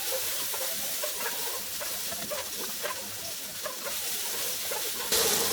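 Caramelized onions and cheesesteak meat fry in a pan with a steady, close sizzling hiss, punctuated by small pops and the occasional stir.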